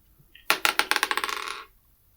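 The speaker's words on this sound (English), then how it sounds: "Just roll the 20-sided dice twice and let me know what you get." A 20-sided die hits a tabletop and bounces, a sharp first strike followed by a quickening run of smaller rattling clicks that settle within about a second, close and clear with no voices.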